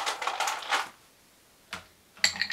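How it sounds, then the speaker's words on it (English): Ice cubes drop into a cocktail shaker while a Sidecar is mixed: a burst of close, sharp clattering, a quiet gap, then a single knock and another brief rattle. "Add a little more ice on there."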